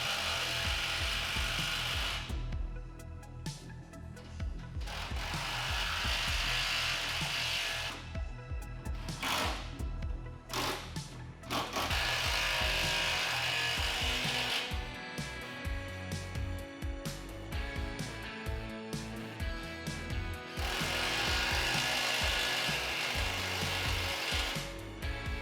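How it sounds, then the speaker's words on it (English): Tools working on an AWE cat-back exhaust on a 2016 Camaro SS, with repeated ratcheting and grinding bursts while the clamps are tightened, separated by short pauses, close and fairly quiet. "Align the rest of the system and tighten down the clamps to set the AWE system in its final location."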